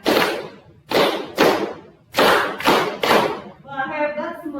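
Class of schoolchildren doing the rhythmic 'tepuk pagi siang sore' clap routine, loud close groups of unison claps in short bursts, followed by a voice speaking.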